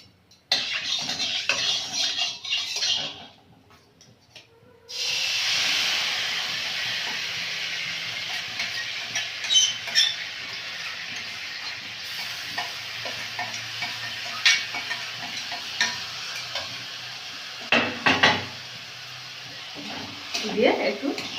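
Grated carrot in ghee being stirred in a pan for carrot naru, a steady close sizzle with scraping spoon strokes, a brief pause near the start, then continuous frying hiss with occasional sharper clinks.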